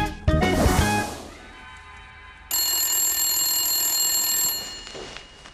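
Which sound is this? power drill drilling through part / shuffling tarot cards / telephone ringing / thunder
telephone ringing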